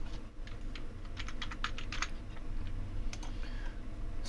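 Close, quiet typing on a computer keyboard, a quick run of light key clicks with a few isolated taps after a short pause, no talking.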